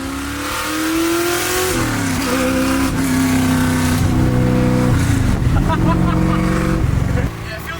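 A carbureted car engine revs and climbs through the gears while driving, loud and close from inside the car, with rising pitch, a gear change and a sustained throaty drone.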